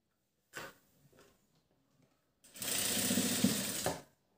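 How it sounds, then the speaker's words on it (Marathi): A sewing machine stitches plain blouse fabric: a short burst of needle clatter, a pause, then a steadier run of rapid stitching for about a second and a half. The sound is close and clear with no talking. "हळूहळू मशीन चालवायची।"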